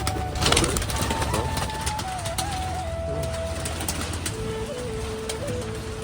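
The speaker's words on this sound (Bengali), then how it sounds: "সব পায়রা বাইরে বেরিয়ে গেলো" Pigeons coo in a loft as the flock heads out, soft rolling calls repeating near and far over a steady background hum and some voices.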